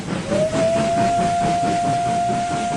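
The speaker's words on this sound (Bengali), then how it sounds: "তখন চলতো কয়লার ইঞ্জিন।" A coal-fired steam engine gives one long, steady, loud whistle over a hissing background, sounding alone without any voices.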